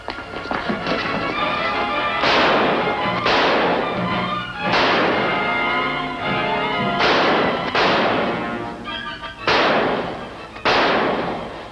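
Gunshots in an old radio crime drama about federal customs agents ring out as about six sharp, loud reports spaced a second or two apart, each with a ringing tail, heard over a busy, noisy background.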